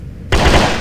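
Dense burst of video-game gunfire from a computer-played survival horror shooter, erupting abruptly after a quiet moment and holding loud and sustained to the end, with no talk over it.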